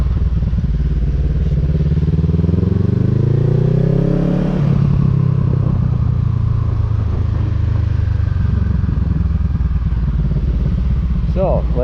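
A motorcycle held in a wheelie in a parking lot, its engine rising and easing through revs at close range, loud and continuous, with throttle surges and mechanical clatter.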